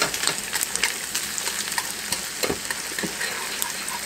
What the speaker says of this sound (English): and just stir them into the sausage